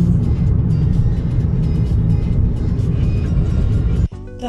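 Riding inside a taxi car, a steady, loud low road and engine rumble that continues throughout, with a brief dip near the end.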